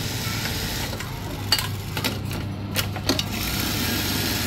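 A used Japanese Juki LBH 780 buttonhole sewing machine runs with a quiet, steady mechanical hum. Light ticking and clicking stitch sounds recur at short intervals over the hum.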